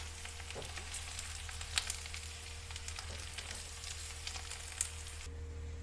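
Okra pieces frying in oil in a home kitchen pan, a steady soft sizzle with faint crackles and a few sharp spatters, fairly quiet and continuous with no talking.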